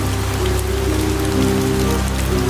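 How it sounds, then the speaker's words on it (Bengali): Rain patters steadily on a small tin-roofed village house, a dense, even wash of drops that continues without a break and with no voices. "বৃষ্টি পড়ছে টাপুর টুপুর।"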